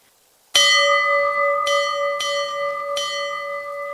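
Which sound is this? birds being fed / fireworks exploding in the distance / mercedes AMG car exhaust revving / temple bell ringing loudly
temple bell ringing loudly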